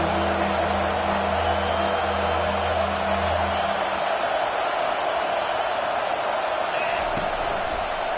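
A college football crowd at a Hokies versus Bruins game, a steady broad roar of many voices filling the stadium, loud and continuous throughout, with a low droning hum fading out midway.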